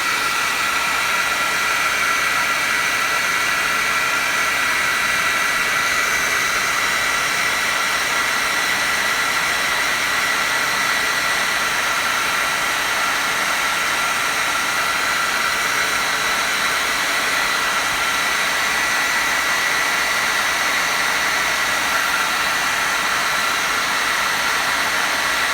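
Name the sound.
blow dryer heating a figure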